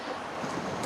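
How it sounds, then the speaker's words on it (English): A creek rushes nearby, a steady broadband wash of flowing water that stays constant and fairly close, mixed with some wind buffeting on the microphone and no speech. "So I'm standing by a beautiful creek. You can hear it rushing behind me."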